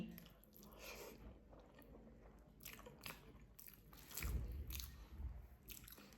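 A person eats a light home meal, with close, soft chewing and biting sounds repeating steadily and a few louder crunchy bites near the end.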